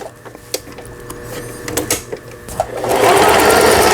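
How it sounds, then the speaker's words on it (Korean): A Juki HZL-272 household sewing machine runs a zigzag stitch after repair. Faint clicks and taps lead into a loud, steady mechanical whirring that starts about three seconds in and continues close up. "지그재그 바느질이 정상적으로 되면 나머지 기능들은 정상적으로 박음질이 되는 겁니다"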